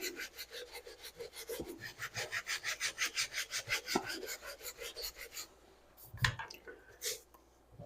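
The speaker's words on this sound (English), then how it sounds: "You can see where I'm scrubbing it." A brush scrubs a Danner Bull Run moc toe leather boot lathered with Dawn dish soap in rapid rhythmic back-and-forth strokes, close and fairly quiet, followed by a few irregular rubs and knocks.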